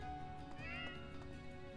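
Faint cat meows from the video game Fire Emblem Three Houses, a short mewing call rising briefly over steady game background music.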